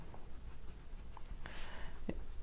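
Marker or chalk writing on a board during an accounting lesson, a few faint, short scratchy strokes over a noisy room background.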